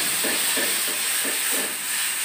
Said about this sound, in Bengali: তো এখন এই সরিষাটা এই ফোড়নের মধ্যে দিয়ে